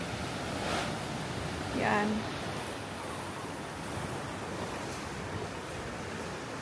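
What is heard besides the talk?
strong waves of the sea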